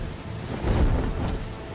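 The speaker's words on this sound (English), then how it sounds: "Still don't do it in a thunderstorm. You're lucky you did not get struck by lightning." A rainy thunderstorm in Batman: The Telltale Series: steady heavy rain hiss with a deep rumble of thunder swelling in the middle, loud and enveloping.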